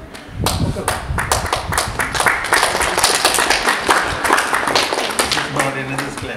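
A group at an NSS special camp in Gorubathan bursts into rhythmic clapping, loud and close, with sharp overlapping claps continuing for several seconds, some voices mixed in near the end.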